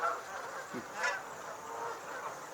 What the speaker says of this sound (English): It's a white-fronted goose.